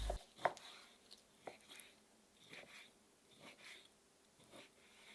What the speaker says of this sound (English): Remove the skin from the pork belly and cut into cubes.